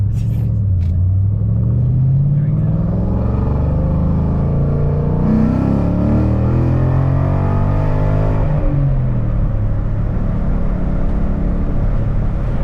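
A Ford Mustang 5.0 fitted with a Boss 302 intake manifold and 90mm throttle body drives by with a steady, loud engine rumble that rises and falls as it revs, heard close up from inside the car.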